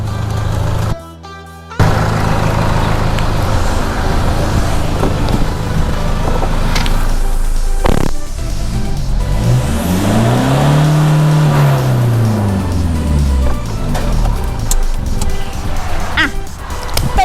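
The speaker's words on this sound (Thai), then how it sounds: "พี่เบิ้ลเสียงท่อรถนะ" A Toyota Vigo pickup truck engine idles, then revs hard several times with a throaty exhaust roar that rises and falls, close by.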